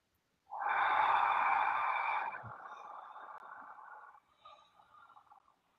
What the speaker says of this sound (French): Je gonfle mon ventre à l'inspiration